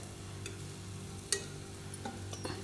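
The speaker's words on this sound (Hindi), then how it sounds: "जितनी जितनी आपकी कढ़ाई में बन जाए इनको हम सेक लेंगे धीरे धीरे।" Bread pieces roasting in a kadhai, turned as they brown: a faint, low sizzle with a few scattered clicks and one sharper tap from the pan, with no talk.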